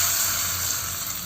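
A brief, steady hiss of tempering spices sizzling in hot oil for peanut chutney, close and even, with no talking.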